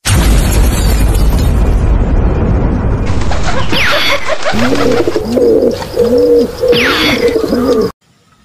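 At a racing pigeon loft, loud rumbling, buffeting noise gives way to pigeons cooing close by in a repeated, rhythmic series of soft, rolling coos. No one speaks.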